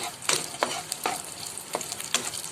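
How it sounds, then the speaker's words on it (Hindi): Almonds, dates, raisins and coconut fry in a pan with a steady sizzle, while a spoon stirs and scrapes in sharp strokes about every half second. "साथ ही ये नारियल मैं फ्राई कर रही हूँ"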